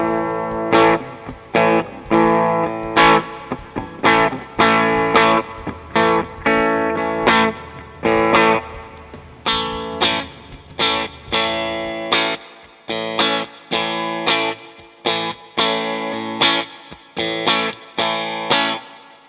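An ESP LTD SN1-HT electric guitar plays choppy, rhythmic riffs through an amp with reverb on, strummed chords stopping and starting in a steady pattern, loud and close throughout.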